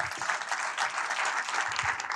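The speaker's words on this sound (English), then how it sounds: "Another round of applause" An audience applauding at a documentary screening as guests are called to the stage, continuous crowd clapping at moderate level that lasts a couple of seconds.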